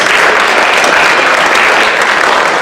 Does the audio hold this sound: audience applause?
yes